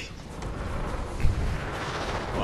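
Dense gunfire and booming blasts from a Fortnite match roll on continuously, with a heavier thump near the middle.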